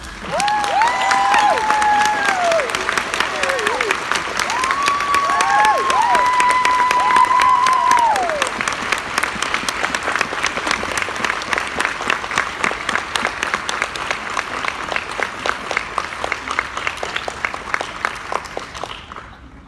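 An audience applauds and cheers for a Visionary Voice Award winner at a ceremony, with sustained loud clapping and a few whoops that swell and then thin into scattered claps before fading out.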